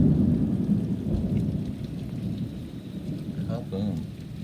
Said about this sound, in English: yeah, here comes the rain.